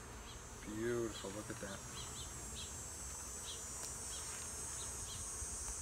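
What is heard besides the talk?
honeybees buzzing at a nucleus hive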